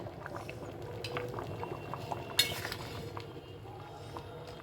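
Katla fish-head dal simmering in a pot with a low, steady bubbling, plus a few faint clinks of a utensil against the pot and one sharper clink midway. Nobody speaks.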